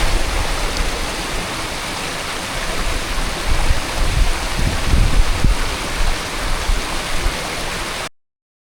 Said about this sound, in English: surrounded by the sound of rushing water and wind whipping across the hillside